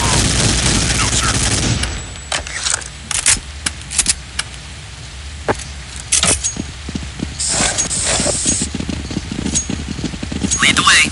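Gunfire in Counter-Strike: Condition Zero, a sharp burst of shots followed by scattered single cracks and short volleys, close and loud, with game voices calling out between them.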